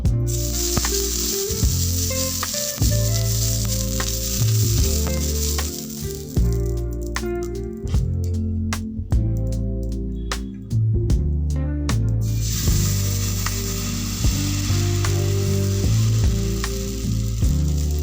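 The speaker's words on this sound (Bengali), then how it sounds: "এবার এর মধ্যে জল মেশানো সাদা তেল একটু ব্রাশ করে দেব।" White oil mixed with water is brushed onto a hot griddle over a gas flame, hissing and sizzling loudly and continuously with rhythmic brushing strokes and a brief quieter stretch midway.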